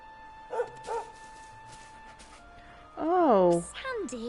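A dog in Dragon Quest XI lets out two short barks early on, followed by longer, whining, yelping barks near the end, heard close and fairly clear over quiet game music.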